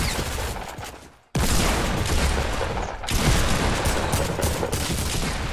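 Shotgun blasts from a Fortnite match, loud and dense, with repeated booming shots and a short silent gap near the start, then continuous heavy firing and impacts.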